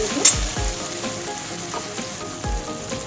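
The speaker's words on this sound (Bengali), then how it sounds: "টমেটো আর পেঁয়াজ আমি ভালো করে ভেজে নিয়েছি" Tomato and onion fry in a pan with a steady low sizzle and crackle, a few soft stirring knocks and thumps punctuating the close, continuous frying.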